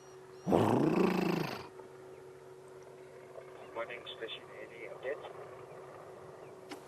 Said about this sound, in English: Can hear elephants calling.